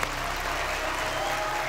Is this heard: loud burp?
no